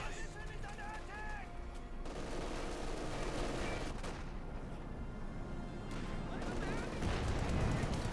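In a Company of Heroes 2 match, a Greyhound armored car and a Sherman tank fire amid ongoing battle noise: scattered gunfire and heavier cannon reports, with a voice commentating over the fighting.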